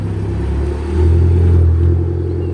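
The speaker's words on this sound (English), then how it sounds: "I've never really seen my car like driving before." A Ford Focus passes nearby as a steady low engine rumble, swelling in loudness midway and then easing, with no talking over it.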